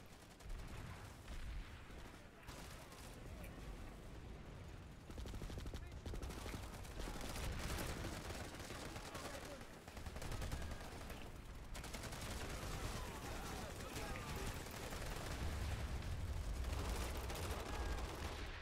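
Gunfire in the Planetside 2 video game, with repeated shots and bursts layered over constant battle noise throughout, and a voice talking at times.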